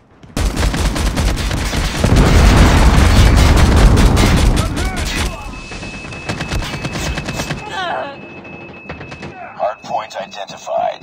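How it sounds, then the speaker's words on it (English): Heavy explosions and dense gunfire from Predator missile strikes in the Call of Duty Mobile game, loudest in a sustained booming barrage early on, then easing into scattered shots and lighter game effects. "Hostile Predator missile inbound."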